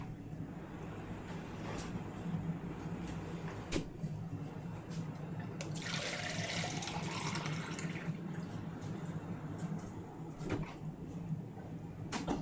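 Tap water runs steadily into a cooking pot in a kitchen, a continuous moderate splashing and rushing that swells briefly as the filling changes, with faint clinks in the background.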